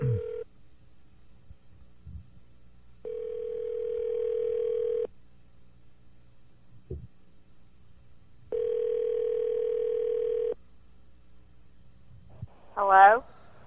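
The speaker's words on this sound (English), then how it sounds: "It's because I'm dialing." A telephone dial tone sounds during a call-in radio show, three steady flat tones of a few seconds each separated by silence, clear and alone, ending with a brief rising electronic chirp.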